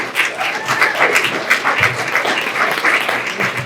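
An audience at a business planning event applauds, a dense steady wash of many hands clapping at moderate distance, with voices mixed into the crowd noise.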